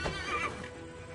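A horse neighs in Assassin's Creed Valhalla, a short, loud whinny with a rising, wavering cry alone over steady game ambience.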